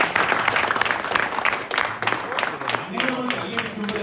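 An audience at a team motivational talk breaks into loud, dense applause, a sustained clatter of many hands clapping close by for the whole stretch.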